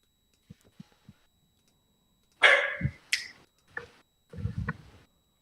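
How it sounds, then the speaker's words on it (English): A pet dog named Pigeon barks indoors in a few sharp, close yips and a short burst, preceded by faint ticking clicks. "Pigeon, stop barking."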